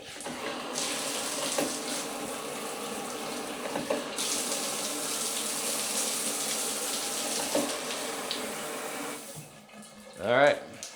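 Water gushes strongly from a tap after an Aquastrong Smart45 pressure pump install, a steady loud rushing stream that shifts in tone midway, with a brief voice near the end.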